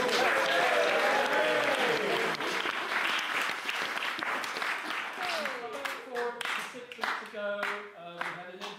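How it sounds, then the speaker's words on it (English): Wedding reception guests applaud warmly, dense clapping under a voice at first, then thinning into scattered individual claps as it dies away. "Give yourselves a big round of applause"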